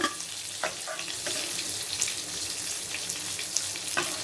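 Valai (ribbon) fish, coated in masala, deep-frying crisp in hot oil: a steady broad sizzle with scattered pops and crackles throughout, close and fairly loud, no talk.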